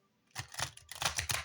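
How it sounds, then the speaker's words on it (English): A pocket-size Rider-Waite tarot deck being shuffled by hand, heard as a rapid run of crisp card riffles and taps, close and fairly loud, with no speech. "Shuffle the Rider-Waite"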